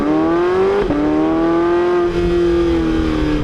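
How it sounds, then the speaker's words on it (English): Porsche 918 Spyder plug-in hybrid supercar being driven, heard close with a loud sustained engine note that briefly drops at a gear change and then climbs steadily again under acceleration. "let's see what this 918 Spyder is like to drive"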